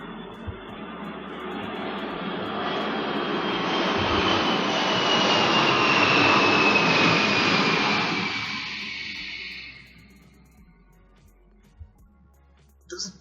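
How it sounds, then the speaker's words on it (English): Loud airplane passing overhead, a broad roar that swells over several seconds, peaks near the middle, then fades away quickly, leaving a quiet background with a couple of faint knocks. "The plane was really loud."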